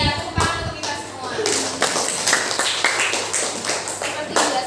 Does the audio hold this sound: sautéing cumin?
no